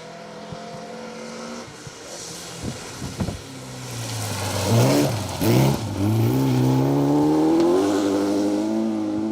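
Vauxhall Chevette HSR rally car on a Malcolm Wilson Rally stage, its engine note rising from a distance and revving hard as it approaches and passes, growing louder toward the end.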